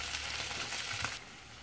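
Asparagus stir-frying in a pan gives a steady, close sizzle with a few light stirring clicks, and the sizzle drops slightly in level near the end.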